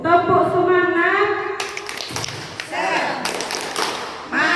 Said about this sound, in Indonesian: mari kita beri semangat terlebih dahulu Bapak Ibu. Tepuk semangat.